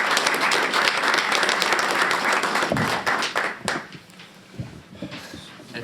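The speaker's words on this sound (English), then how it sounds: "Let's give another round of applause for the speech team." Audience applauds the speech team in a full, dense round that tapers into a few scattered claps and quieter room noise.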